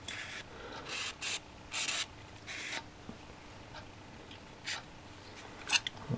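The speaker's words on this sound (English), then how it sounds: "I'm going to mark this with the pen here." A pen marks a workpiece with short scratchy strokes, a series of quiet close rubbing bursts in an irregular rhythm.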